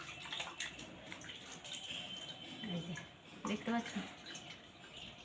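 Conch shell bangles are washed under running tap water, with a soft steady splash and clinks and drips over it as someone speaks briefly.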